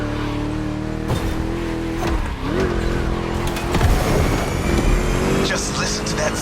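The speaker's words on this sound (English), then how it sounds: "Just listen to that V8, like a chunky, down-tuned guitar riff." A deep V8 American muscle car engine in The Crew Motorfest roars and revs as the car races past, its pitch sweeping up and down while tires squeal, with talking over it.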